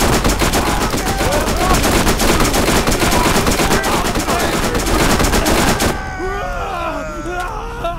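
Sustained rapid video-game gunfire rattles loudly for several seconds, then cuts off, leaving quieter game sounds and chirpy effects.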